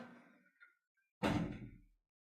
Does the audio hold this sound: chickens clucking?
no